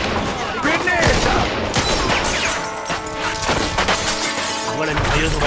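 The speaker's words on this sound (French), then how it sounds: "Voilà la mitrailleuse au balcon." Machine gun fire from a balcony in Mafia II, rapid continuous bursts with crashes and shattering, under shouted voices.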